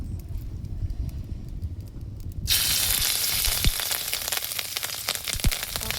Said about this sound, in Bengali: কড়াইতে তেলটা গরম হয়ে গেছে, এবারে ডিমগুলো দিয়ে দিব